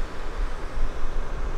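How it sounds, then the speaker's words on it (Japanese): Ocean waves roll onto the sand at Chirihama beach in Ishikawa, a low, uneven wash of surf mixed with gusty wind noise, fairly loud and continuous with no talking. "この波の音を普通に真横から聞きながら"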